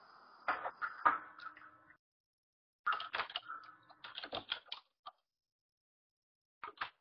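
A computer keyboard is typed on in short bursts of quick, close key clicks with pauses of silence between them, and a final brief flurry at the end.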